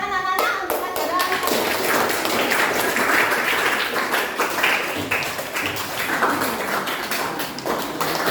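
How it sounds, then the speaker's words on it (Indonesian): Children applaud in a classroom, a dense burst of clapping hands that fades into scattered claps with some voices mixed in. "tepuk tangan anak-anak untuk pelajaran"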